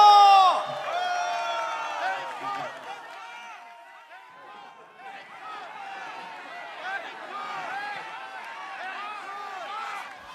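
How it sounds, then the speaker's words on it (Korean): Applause and cheering from a rally audience thanking a guitarist and dancers, a loud burst at first that settles into steady clapping and crowd noise with some whoops throughout. "파면하러 율동해 주신 분들께 박수 한번 부탁드리겠습니다"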